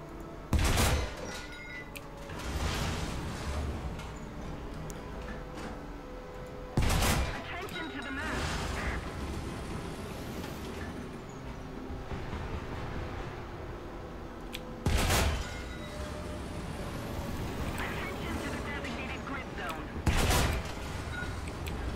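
Heavy tank cannon shots in War Thunder, four loud booming blasts spaced several seconds apart over rumbling engine noise, with someone talking in between.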